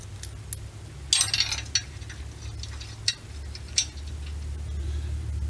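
Ratchet wrench fastening 3/8 bolts on a Chevy truck cab mount bracket, with quick metallic clicks and a few sharp knocks over a steady low hum, moderately close.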